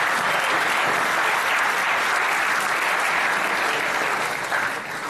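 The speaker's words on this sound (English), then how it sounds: "they also deserve our applause on that account." A banquet audience at an awards ceremony breaks into dense, sustained applause, loud and steady throughout before easing slightly at the end.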